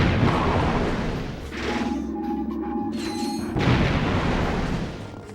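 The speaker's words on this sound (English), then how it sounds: "Ultra Tetra Bomb Gun" Ultra Tetra Bomb Gun blasts from Ratchet & Clank: Going Commando, heavy booming explosions with crashing debris that swell, briefly drop to a mechanical whir, then return loud.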